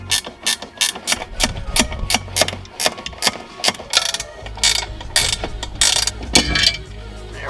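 Hand ratchet loosening 10mm bolts on a car's air suspension tank, rapid clicking pawl strokes in repeated bursts with short gaps, close and loud in a garage, no talking.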